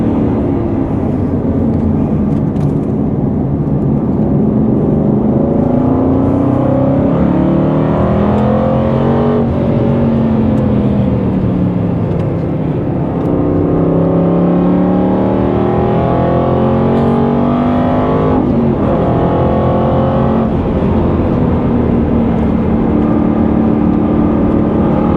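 An Aston Martin Vantage race car on track roars loudly and steadily from inside the cabin, its engine note climbing and falling as the driver brakes and drops gears, with no talk over it.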